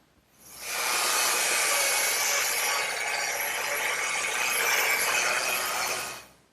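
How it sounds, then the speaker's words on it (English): Scraping and sanding excess glue off a glued-up wooden top, a steady broad abrasive hiss that rises in, holds evenly for several seconds, and then fades, close and alone. "scrape off this excess glue and sand it down"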